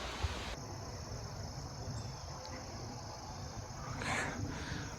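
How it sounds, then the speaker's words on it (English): Crickets chirp outdoors along a nature trail near a waterfall, a steady high trilling drone that carries on without a break over soft rustling background noise, with no talk. "I hear crickets."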